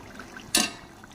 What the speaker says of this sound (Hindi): तो अब इसमें हम पानी डालेंगे